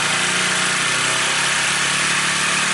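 A Honda CB150R motorcycle engine runs at a high, steady speed of around 5000 rpm, giving a loud, continuous roar with no break and no voices.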